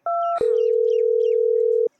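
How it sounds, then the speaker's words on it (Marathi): A phone is dialed: a short dual keypad tone sounds first, then a steady electronic tone holds for about a second and a half before cutting off cleanly. "आता डायरेक्ट नरेंद्र मोदीला फोन लावतो"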